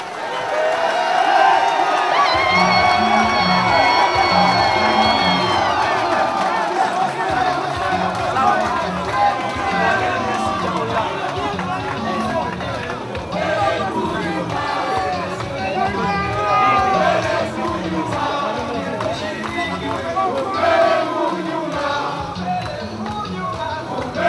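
Political rally crowd at a CUF gathering in Kitope, a sustained roar of cheering, clapping and shouting that stays loud over the full stretch, with an amplified voice and chatter mixed in.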